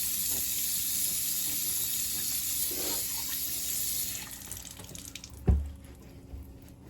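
A bathroom sink tap running steadily while alum is rinsed off after a straight razor shave, a close, even rush that cuts off partway, followed by a single dull knock and quiet room tone.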